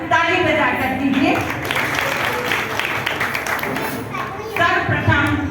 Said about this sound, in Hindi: पहले आप सब उनका ताली बजाकर स्वागत कीजिए